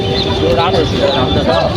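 Local country chickens cluck close by while people talk over them in a busy chicken market.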